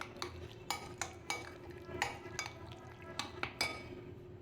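A spoon clinks against a bowl in quick, uneven taps while chopped onion and green chilli are stirred for masaledar aloo baingan. The strokes sound close and clear, with no talk.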